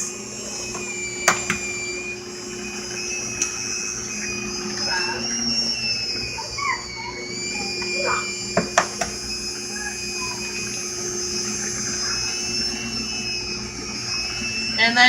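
An electric mixer blends banana bread batter of soft butter and two eggs, a loud steady motor whine held throughout with a few small knocks, while someone talks over it.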